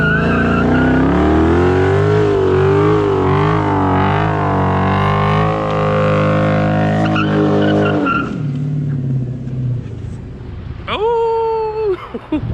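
A car does a tire burnout, its engine revving hard under a loud sustained tire screech for several seconds, then dropping away before a brief final squeal and rev.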